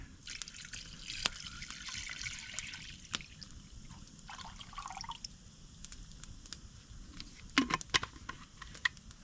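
Water poured into a cooking pot at a campsite, a quiet trickling, splashing flow with scattered drips and small clinks over faint background noise.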